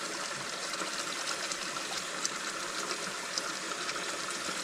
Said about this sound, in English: So we'll just we'll just wring this out by hand.